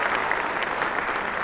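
A small audience at a watercolor wash-off art event claps in a brief, steady burst of dense applause with no talk.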